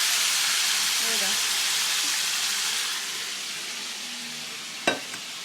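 Pork chops frying in a pan for yellow rice fried pork chops give off a steady, close sizzle and hiss that eases slightly partway through, with one sharp clink near the end.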